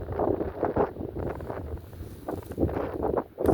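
Strong November wind gusts across an open field with bare trees, roaring in uneven bursts against the microphone, loud and close with brief lulls between gusts.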